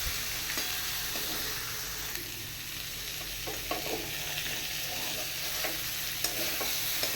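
Pumpkin peel, potato and spices are stirred and fried in a pan, giving a steady sizzle with scraping stir strokes near the mic, and no one talks.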